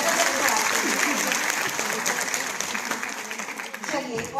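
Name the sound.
applause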